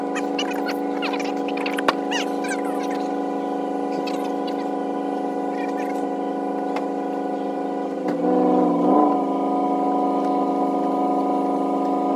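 A Chevy Tracker engine drones steadily at close range while its tires spin without grip in snow, the pitch wavering and swelling briefly toward the end before settling back.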